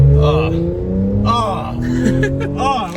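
An Audi S5 engine revs with rising and falling tones under excited talking from people nearby, the motor humming steadily beneath their voices throughout.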